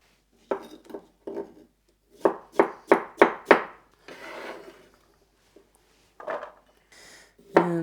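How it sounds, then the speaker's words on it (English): A knife cutting vegetables into cubes on a board, with sharp chops coming in short bursts and a quick run of five or six even strokes, separated by pauses and a few softer rubbing and handling noises. "So just gonna cube these up."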